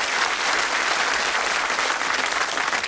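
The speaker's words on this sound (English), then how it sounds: "That's worth a round of applause." Studio audience at a TV quiz show bursts into applause for a correct answer, a thick, sustained wash of many hands clapping at once, loud and continuous throughout without any talking.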